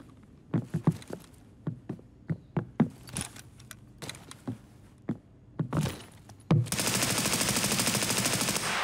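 Gunfire in Escape From Tarkov on the Labs map: a string of sharp single and clustered shots at irregular intervals, loud and close, ending in a sudden sustained loud burst of hiss that runs to the end.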